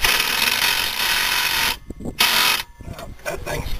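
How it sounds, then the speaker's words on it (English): A socket ratchet turns a tight bolt while an EV charger is removed from a Ranger, giving close clicking ratchet strokes broken by short pauses, with no talking. "You actually have to use a socket on that. Ratchet."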